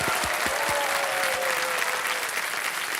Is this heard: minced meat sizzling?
no